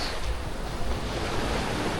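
Ocean waves at Playa del Carmen, with the water reaching right up to a damaged beachfront building, rumble as a steady, loud wash of surf mixed with wind noise on the microphone.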